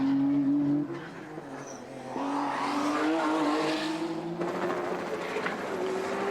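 A Nissan Skyline touring car races in the 1991 Tooheys 1000, its engine droning loud and steady at high revs with a brief dip partway through, then a renewed pass.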